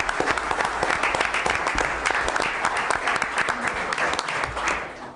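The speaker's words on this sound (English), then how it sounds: "Big hand of applause." Crowd clapping at a town council meeting honoring the West Orange High School state champion wrestling team, a dense, even wash of applause held steady throughout, loud and close.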